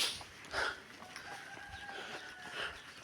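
Village chickens cluck and call in Chiang Mai, Thailand, a few short rooster-like cries rising over a soft outdoor background with a faint steady tone.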